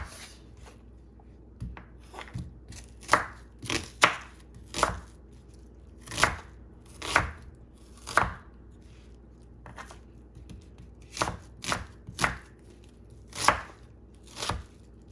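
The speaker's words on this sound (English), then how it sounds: "Chop everything up." A knife chopping plum tomatoes and onions on a board, sharp distinct thumps in irregular bursts, clear and close with no talking.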